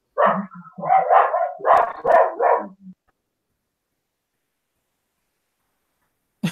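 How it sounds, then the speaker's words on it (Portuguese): Dogs bark in a close, loud burst of several sharp yaps and woofs over about three seconds, followed by silence and one brief final bark at the end. "meus cachorros estão latindo aqui"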